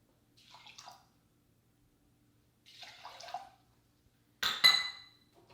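Cold water is poured into a small 2-quart saucepan holding rice, in three short, faint splashing bursts separated by silence, the last one louder.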